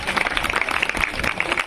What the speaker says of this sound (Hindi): एक बार जोरदार ताली बजाकर आप सभी स्वागत करेंगे